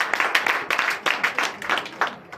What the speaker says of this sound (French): Donnez de l'acclamation à notre Seigneur Jésus.